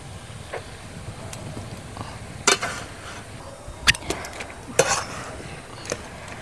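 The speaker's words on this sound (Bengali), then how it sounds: "এই তালের গুড় দিয়ে নারকেলটা আমি আজকে ছাই মারবো।" Grated coconut being stirred with palm jaggery and sugar in a pan, a soft scraping bed broken by a few sharp metallic clinks of the spoon against the pan.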